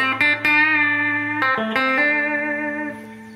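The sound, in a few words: guitar lead with vibrato and reverb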